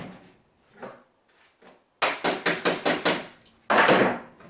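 A run of sharp metallic taps from pliers used as a hammer on a meat smoker converted into a powder coating oven, about six quick strikes, then a louder scraping clatter, light handling noises before.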